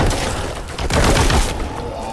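Rapid heavy gunfire from the shooter game Warhammer 40K Boltgun, a loud continuous volley of booming shots with no gaps, dense and close.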